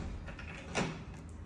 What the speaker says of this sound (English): Kind of close some doors as I go